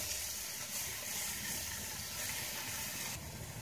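Ingredients frying in a pan for a coriander and tomato chutney, a steady close sizzling hiss that stays even and continuous, with no talking.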